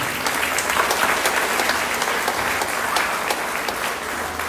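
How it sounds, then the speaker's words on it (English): An audience at the Little Miss Apple Festival pageant claps for the event's sponsors, a dense, even round of applause from many hands that holds steady throughout. "give our sponsors a big round of applause"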